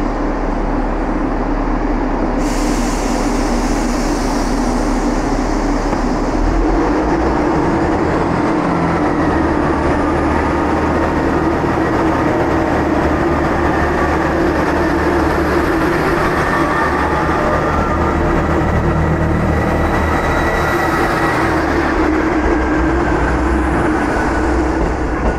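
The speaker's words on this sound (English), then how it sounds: "I'll just wait for the train to go." A train passing in the seaside town of Barmouth, a long, loud rumble of rolling wheels and carriages with faint clicking rail joints and a rising high whine, building and fading over about twenty-five seconds.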